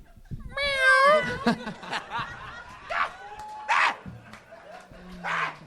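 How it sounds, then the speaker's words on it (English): A cat meows several times, with quick wavering cries followed by shorter mews, some laughter-like bursts mixed in nearby. "you'll hear the sound of a kitty"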